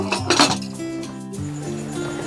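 A pressure cooker lid is closed and locked with a few close metallic clinks and scrapes in quick succession, followed by a steady ringing tone.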